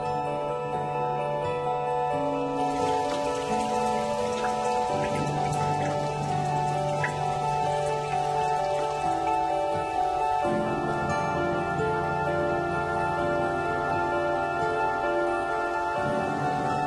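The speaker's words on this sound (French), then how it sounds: "Vite, il pleut!" Steady rain patters continuously on a surface, with a constant hiss and scattered drops, joined by sustained tonal hums that shift in pitch.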